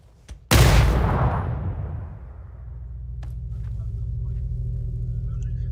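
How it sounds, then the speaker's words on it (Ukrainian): Grenade explosion in PUBG: one loud, sharp blast up close that rolls off into a fading rumble, followed by a steady low hum. "Граната сюди летить."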